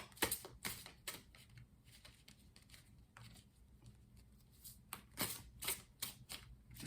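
Tarot cards are shuffled and pulled for a four-card daily reading, with soft, quick papery riffles and taps coming in uneven bursts through a quiet room.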